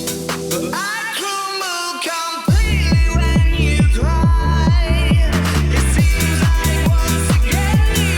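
A remixed electronic track's drop plays back loud and punchy, opening with bright melodic synth lines before a heavy, steady four-on-the-floor kick and bass pattern slams in under them.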